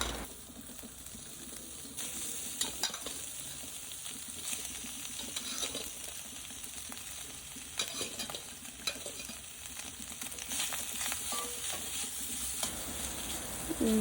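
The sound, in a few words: pork fat frying in pan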